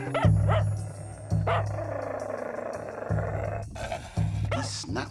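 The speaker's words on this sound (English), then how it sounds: "Snaps and snarls and barks and growls." A dog lets out several sharp, close barks and yips, with deep growling rumbles between them, loud and agitated throughout.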